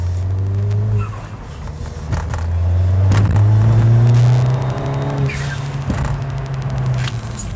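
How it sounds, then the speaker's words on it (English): A Ford Fiesta ST180 accelerates hard toward 60 mph, its engine note rising steadily with audible upshifts and dips in between, heard loud from inside the cabin. "we're going to hit 60 miles an hour now."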